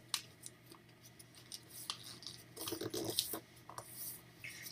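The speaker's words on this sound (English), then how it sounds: "So, like before, fold in the half and fold in the half again" Sheets of paper are creased and folded for an origami ninja star, giving soft scattered rustles and sharper crinkling swipes close by, with quiet pauses in between.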